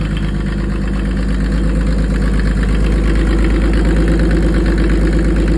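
A Mercedes OM606 diesel engine with a mechanical injection pump and no air filter housing idles steadily and loudly nearby, a constant low rumble with a rhythmic knocking clatter.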